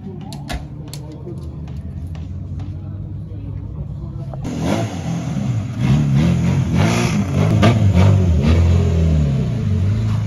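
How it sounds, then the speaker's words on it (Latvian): Autocross race car heading out to qualifying at a season-finale event in Lithuania, its engine rising from a low idle to a louder revving drive that grows nearer, with someone talking over it. "Tikko Inters izbrauc uz 3. kvalifikāciju."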